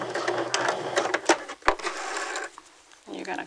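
A sewing machine runs in short bursts with a mechanical rattle, stopping and starting as it back stitches at the end of a seam, with a brief sharp click midway and a voice talking over part of it.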